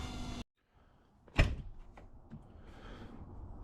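Side cab door of a JCB 1CXT backhoe loader, a single loud metallic clunk as the latch releases and the door swings open, followed by faint rattling, with no talk.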